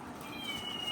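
A live cat gives a single short, faint meow against a quiet background.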